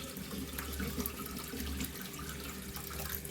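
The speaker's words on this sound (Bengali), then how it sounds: "কল চালিয়ে দিয়েছি এই কারণে যে এটা আমি ছেঁকে নেব" A kitchen tap runs while soaked sago is strained. Water pours in a soft, steady splashing stream with faint trickles and drips, quiet and continuous.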